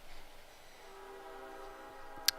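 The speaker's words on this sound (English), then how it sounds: "and you may hear the trains out there." Trains passing outside, a faint, distant horn held as a low steady tone across the whole clip, muffled as if heard indoors, with a small sharp click near the end.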